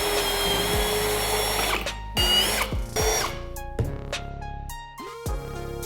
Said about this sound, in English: Let's get these things drilled now.